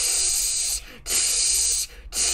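Fire extinguisher blasting two loud, sustained hissing sprays separated by a brief pause, with a third burst starting at the end, close and harsh.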